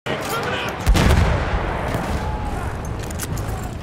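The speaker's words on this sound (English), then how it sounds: "Machine gun! One of theirs!" Machine gun fire in Battlefield 1, with a heavy burst of shots near the start giving way to a dense, continuous roar of battle noise and faint voices underneath.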